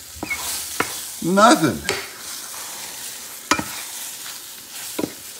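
Scrambled eggs cooking in a Field Company No.10 skillet on an induction stove over heat set too high, with scraping stirs, a brief louder sizzle and a few sharp spatula taps against the pan.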